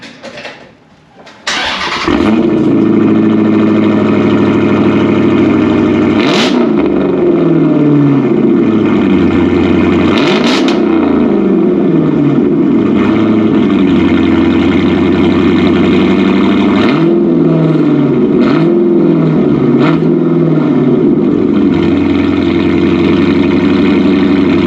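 A Dodge Challenger Widebody fitted with a MagnaFlow Xmod exhaust starts up loudly, then holds a deep, steady idle punctuated by several sharp revs, close and with no talking.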